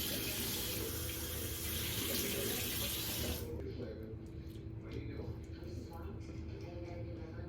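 Tap water runs loudly and steadily while a face mask is rinsed off, then drops to a softer, uneven trickle and splash in a sink.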